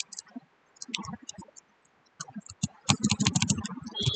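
Fingers type on a computer keyboard in short irregular bursts of clicking keystrokes with brief pauses between them, close and fairly crisp, no talking.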